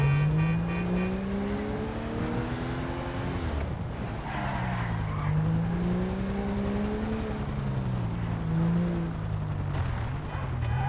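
Car engine in Grand Theft Auto V driving steadily, its tone rising and falling as it accelerates and turns, with brief tire skidding partway through; loud and continuous, with no talk.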